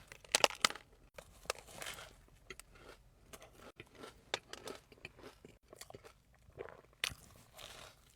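An apple pie cobbler doughnut is bitten and chewed up close, with crisp crunchy bites followed by irregular wet chewing and smacking. A sharper bite comes near the start and another near the end, and no one speaks.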